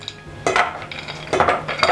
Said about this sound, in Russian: Размешиваем, чтобы шоколад полностью растаял.